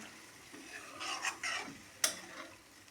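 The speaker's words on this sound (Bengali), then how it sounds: "জল দিয়ে একটু নাড়াচাড়া দিয়ে দেবো" Rohu fish curry stirred in a pot after water goes in: soft, quiet swishing strokes with a faint simmer, then one sharp utensil knock against the pot near the end. Close but low in level, with no talking.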